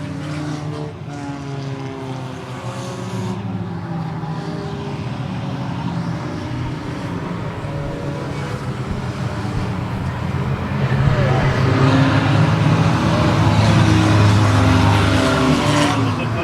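Race cars lapping during an enduro race, a steady loud engine drone with cars passing and rising louder toward the end, with commentary talk running over it.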